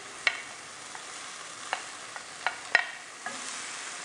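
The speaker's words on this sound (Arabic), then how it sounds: "غادي ندوزو نشحروا لا موتي كيف ما قلنا ديال البصله ديالنا مع شويه الزيت" Onion sautéing in a little oil in a pan, a soft low sizzle broken by a few sharp scrapes or taps of a utensil, fairly faint and close, with no talking.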